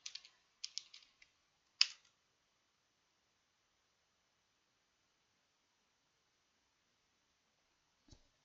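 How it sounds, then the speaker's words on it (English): Short bursts of typing on a computer keyboard, a few quick clusters of light key clicks in the first two seconds, then near silence with one soft knock at the end. "Gonna type hello here."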